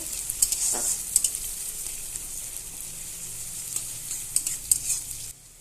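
Onion and bay leaf frying in hot oil, a soft steady sizzle with a few sharp clicks of stirring, quiet and without speech, ending abruptly.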